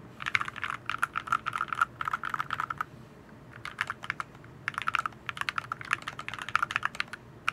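Fast mechanical keyboard typing on a Boardsource Lulu with a polycarbonate plate, a deep, poppy clack, played in bursts with short pauses between runs, close and fairly loud.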